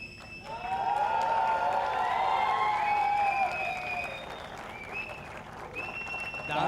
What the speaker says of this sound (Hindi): एक और बार जोरदार तालियां for the entire star cast of Mahakumbh.